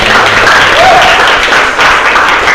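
Students in a classroom clap together, a loud, close burst of dense applause lasting a couple of seconds with a faint voice briefly audible within it.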